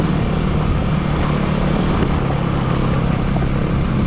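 Steady, loud engine drone of a KTM Duke motorcycle riding off road, a continuous low rumble that holds level throughout with no voices.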